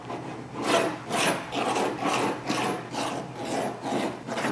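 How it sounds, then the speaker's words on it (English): A knife saws back and forth through cooked barbecue ribs in about seven steady, rasping strokes, close up and with no talking. "So now I'm gonna flip these over and carve them up."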